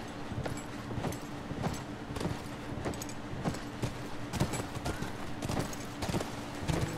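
Horse hooves clip-clop in a brisk, steady rhythm in The Last of Us, the repeated hoofbeats fairly faint and continuous over several seconds.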